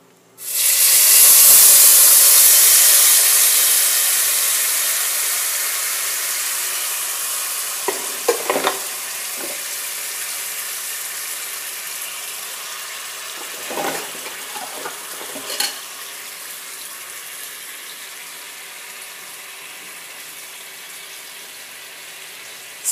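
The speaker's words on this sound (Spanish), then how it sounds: "Ya tengo mi sartén con aceite, entonces ahora vamos a poner la salsita." Strained salsa hitting hot oil in a frying pan, a loud burst of sizzling and hissing that settles into a steady frying crackle, with a few clinks of a utensil stirring the pan.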